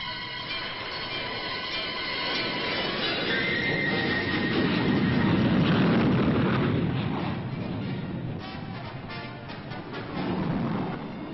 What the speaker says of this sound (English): Also present at all times during the Delawar exercise was the supersonic firepower of the supporting tactical fighters.